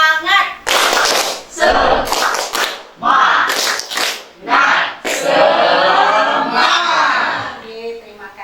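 A classroom of students performs 'tepuk semangat', a spirit clap routine, with bursts of rhythmic group clapping broken by short pauses and mixed with chanting voices, loud and close.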